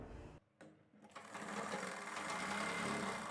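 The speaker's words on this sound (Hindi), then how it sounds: "तो देखिए दोस्तों यहाँ पर हमने अपनी सिलाई को बारीकी से उतार दिया है।" Sewing machine stitching a Western-style blouse, starting after a brief pause and then running in a steady, close, continuous mechanical whir with rapid needle clatter.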